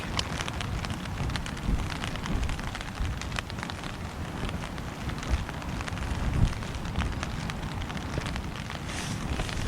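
Torrential rain pelts a Hilleberg Soulo tent in a wild-camp thunderstorm with strong winds, a dense, steady close-up patter with occasional heavier gusts and no talking.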